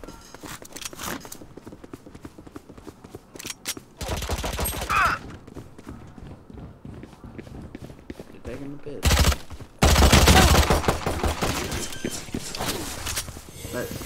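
Video game gunfire during a pistol-only challenge comes in several loud bursts of close, rapid shots, separated by quieter stretches of game sounds.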